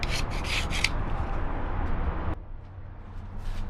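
A putty knife rasps and scrapes in short strokes up close, clearing caked mud and grime from a truck frame, then the scraping stops abruptly and resumes more faintly.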